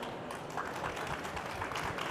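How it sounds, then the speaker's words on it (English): A crowd at a crypto conference gives a quick round of applause to welcome a panel, a dense continuous clatter of hands, moderately loud and steady throughout. "quick round of applause to welcome them"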